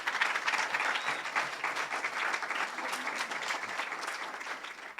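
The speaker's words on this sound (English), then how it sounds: "let's give a round of applause to my speakers here" Audience applause for speakers at an event: dense, even clapping from a crowd in a hall, sustained and moderately distant, with no talking over it.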